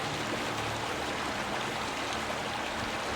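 A river stream flows steadily, a constant broadband rush of moving water without breaks, moderately loud and uniform, with no voices.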